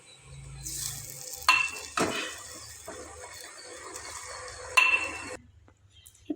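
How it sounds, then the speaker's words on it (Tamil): Lemon pieces go into a hot pan of spiced oil for lemon pickle and are stirred, with metal spoon clinks and scrapes against the pan and two sharp knocks over a soft sizzle, no talking. "இப்போ இதில் லெமன் ஆட் பண்ணிடலாம்."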